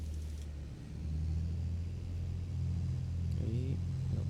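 A farm vehicle with a spreader drives across a crop field, its engine giving a low, steady rumble with slight swells in revving, heard from inside the cab.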